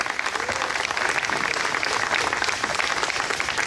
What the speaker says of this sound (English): Another round of applause for our new trustee.